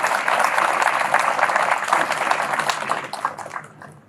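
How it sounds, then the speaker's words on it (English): A crowd of soldiers, friends and family at an Army change of command ceremony gives guests a round of applause, dense, loud clapping that holds steady and then tapers off toward the end. "Please give them all a round of applause."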